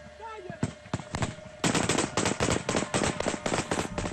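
Rapid automatic gunfire during combat in Afghanistan, with a few separate shots followed by dense, loud bursts of close-range fire; a voice is briefly heard at the start.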